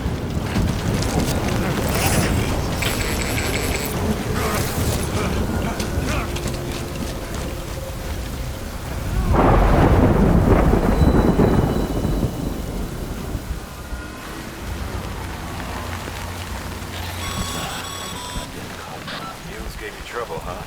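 Heavy rain and rumbling thunder in the video game Death Stranding, a steady loud downpour with a deep thunder swell peaking midway, wind buffeting throughout and game effects layered in.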